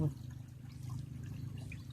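Water flows steadily with a soft trickle under a low hum, fairly faint and continuous throughout.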